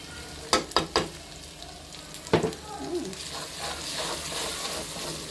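Turmeric, chili, coriander, cumin and salt hit a small pan of hot oil, with a few sharp utensil knocks early on and then a continuous soft sizzle that swells slightly toward the end.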